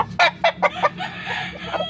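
A rooster on a Filipino gamefowl farm gives a loud, close call as a run of four or five sharp, bright bursts, then a longer held tone that trails off, with other fowl faint behind it.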